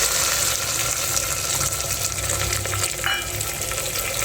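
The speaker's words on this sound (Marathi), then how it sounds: "कढीपत्ता कोथिंबीर थोडीशी लाल मिरची आणि हिरवी मिरची आणि आता कांदा टाकायचा" Onion tipped into hot oil already holding curry leaves, coriander and red and green chillies, cooked in a clay pot: a steady close sizzle and crackle of frying throughout, with no voices.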